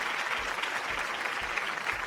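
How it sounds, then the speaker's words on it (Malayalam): Studio audience applauding a departing contestant on a Malayalam TV game show, an even wash of clapping that stays soft and fairly distant throughout, with no voices over it. "നല്ലൊരു കയ്യടി."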